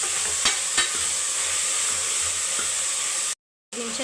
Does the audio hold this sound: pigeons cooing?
no